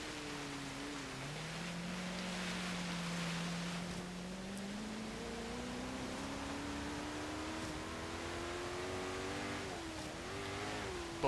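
A 2016 Koenigsegg Regera in Forza Horizon 3 on a snowy hill climb pulls hard without gear changes, its engine tone rising smoothly and steadily in pitch for several seconds, loud and alone.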